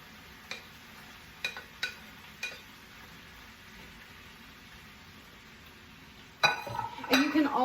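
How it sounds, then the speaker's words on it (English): Potatoes and mushrooms are stirred back into a pan with steak, giving a scraping, sizzling clatter near the end after a few light utensil clicks against quiet background. "we're going to go ahead and add the potatoes and mushrooms back in"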